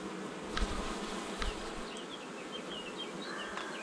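Honeybees buzzing around an open hive during a colony inspection, a dense steady drone with individual bees whining past at close range and a few soft knocks of frame handling, no talk.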